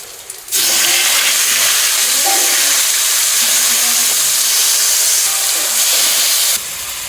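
Cumin seeds hit hot oil in a kadai and set off a loud, steady sizzle and hiss that starts abruptly and holds almost unbroken, close and alone, before easing slightly near the end.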